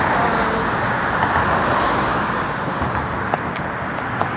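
Steady roadway noise from cars passing along a city street, a continuous wash of traffic with a couple of faint clicks near the end and no speech.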